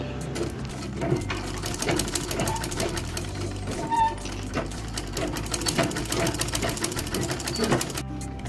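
A sewing machine stitches a blouse in rapid, rattling bursts, the needle's mechanical clatter close and loud, with a brief pause near the middle.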